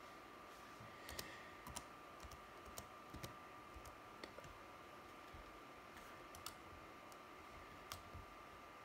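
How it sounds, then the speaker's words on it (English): A username and password are typed on a computer keyboard, producing faint, sparse, irregular key clicks over a quiet background hiss. "type in your username and password"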